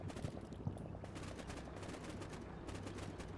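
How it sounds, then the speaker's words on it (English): Distant gunfire crackles through a Combat Mission: Cold War battle between the 1979 US and Soviet armies, a dense, steady stream of small shots with one sharper report standing out early, all sounding far off with no talk. "Where am I hearing those shots?"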